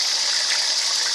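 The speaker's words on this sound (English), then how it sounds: "And the gray water is flushing, cleaning the black water in the pipe." Gray water from a travel trailer's tank rushes steadily through a drain pipe, a continuous hissing gush with no breaks or talk.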